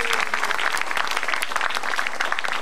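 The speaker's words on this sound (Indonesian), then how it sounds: "Tepuk tangan buat Metro TV." A comedy club audience at an Indonesian stand-up show claps steadily and loudly, dense applause filling the whole moment with no talk over it.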